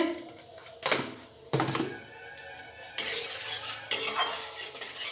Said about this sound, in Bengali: এবার আমি তেলের মধ্যে একটু হলুদ দিয়ে দেবো নাহলে ছিটে